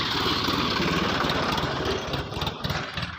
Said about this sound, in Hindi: ये ट्रैक्टर भी खेतों की जुताई करने के लिए